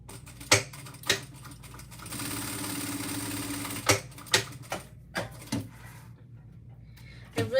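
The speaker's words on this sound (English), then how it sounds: "Now we're going to stitch with a top stitch length." A sewing machine top stitching fabric for a bag, a steady close mechanical whir of about two seconds between sharp clicks and knocks of handling, fairly quiet overall.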